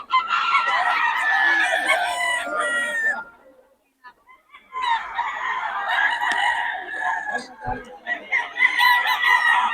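Roosters crow loudly and repeatedly up close, with hens clucking in between and a brief lull in the middle, among chickens offered for sale.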